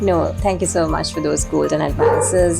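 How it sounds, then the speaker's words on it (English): A dog caged outdoors barks and yips in short repeated bursts in the background while someone speaks over it. "apologies for my dog who's caged out there and barking sometimes in the background"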